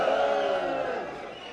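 A live audience at a Notting Hill Carnival anniversary press launch breaks into loud, dense crowd applause and cheering that starts at full strength and gradually eases off.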